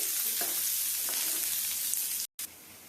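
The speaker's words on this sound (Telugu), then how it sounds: "ఇది బాగా గోల్డెన్ కలర్లో వచ్చేంత వరకు ఫ్రై చేసుకున్నామండి" Sliced onions frying in a pan until golden give a steady, close hiss of sizzling oil with a few light stirring scrapes, broken by one brief moment of silence near the end.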